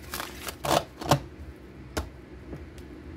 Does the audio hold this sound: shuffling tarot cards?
yes